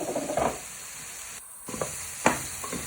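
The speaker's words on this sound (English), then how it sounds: "add in your carrots and turnip to your pan, and you want to give them a little stir" Carrots and turnip sizzle gently in a pan while being stirred for a sausage casserole, soft crackling broken by a few spatula scrapes and a brief gap, no speech.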